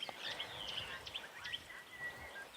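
Birds call and chirp repeatedly in the wild at sunset on a safari in the African bush, with brief high whistles and tweets scattered over soft, steady background ambience, fairly faint and distant.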